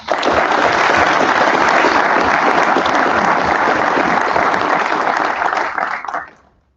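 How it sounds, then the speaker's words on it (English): A crowd at a graduation ceremony applauds steadily and loudly for several seconds, a dense wash of clapping that fades out quickly at the end. "Big hand of round of applause for all."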